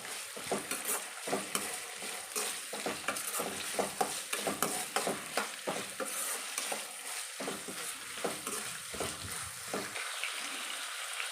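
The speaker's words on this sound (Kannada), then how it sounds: "ಈಗ ಕರಿಬೇವಿನ ಸೊಪ್ಪು ಹಾಕ್ತಾಯಿದ್ದೀನಿ. ಇದನ್ನೆಲ್ಲ ಚೆನ್ನಾಗಿ ಫ್ರೈ ಮಾಡ್ಕೊಳ್ಬೇಕು." Curry leaves fry in hot oil in a pan for oggarane mandakki, a continuous crackling sizzle broken by frequent sharp spoon scrapes and stirring knocks, close and fairly quiet, with no talking.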